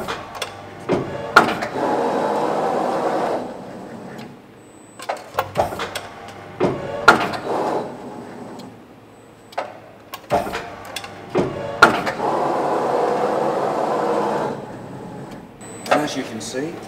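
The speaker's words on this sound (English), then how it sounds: "I'm now going to press the pedal and show you the machine stroking." A sheet metal guillotine machine stroking after its foot pedal is pressed, several repeated cycles of sharp mechanical clunks framing sustained whirring hum, loud and close.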